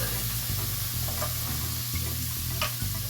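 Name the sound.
tomato paste frying and being stirred in a pan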